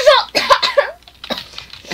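Short sharp coughs from a person playing Hellish Quart, two quick bursts followed by a fainter one, close and loud with vocal sounds mixed in.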